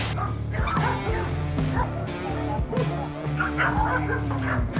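Many dogs barking and yipping together at a large kennel of over 200 dogs, overlapping loud barks with some whimpers, a noisy chorus close by.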